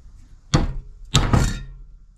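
Two hard metallic thunks come from an 11/16 socket driving a needle-bearing U-joint cup out of a 1982 Ford F150 driveline. The second strike rings into a short double knock, close and loud, with no talking.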